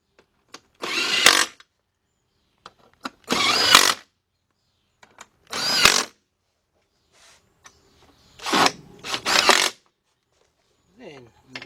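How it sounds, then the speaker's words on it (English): A power driver fitted with a T30 bit on a 5-inch, 1/4-inch drive extension tightens screws in several short, loud whirring bursts separated by pauses, with light handling clicks between them. "we're ready to tighten these up, and like before, I'm going to use this 5-inch, 1/4-inch drive extension with my T30 bit up there"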